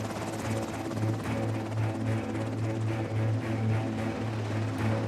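Coast Guard rescue helicopter coming in to land, a loud steady rotor thump and engine whine holding close and continuous throughout.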